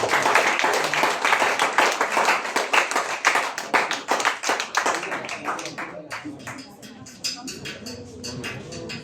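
A church congregation claps loudly and continuously, a dense burst of hand claps that tapers to scattered, softer clapping near the end.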